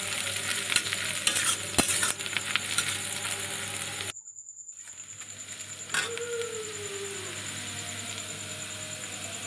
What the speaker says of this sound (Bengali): এবার পেঁয়াজগুলো ভালো বেশ লালচে লালচে করে একটু ভেজে নিতে হবে।